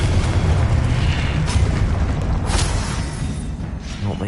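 A Confringo fire spell detonates in Hogwarts Legacy, a loud, sustained booming blast with a dense roar, fading slightly toward the end, with no talking.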